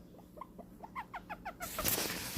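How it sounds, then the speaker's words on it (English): Guinea pig Mike gives short single purrs, a string of evenly spaced little chirps, close and alone, followed by a rush of broadband noise. "So when he does the single purrs like that"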